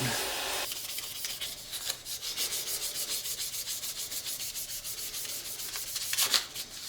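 Sandpaper of 600 grit rubs a slimline pen blank spinning on a wood lathe, giving a steady, close, rhythmic scratchy hiss of repeated strokes with no talking.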